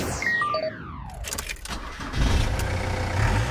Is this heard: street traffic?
yes